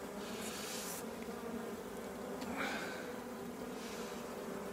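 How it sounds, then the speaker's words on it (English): Honeybees from a merged colony hum steadily around a hive frame, a dense, even buzz close by with a few brief louder passes of individual bees. "We'll shake the bees off this frame"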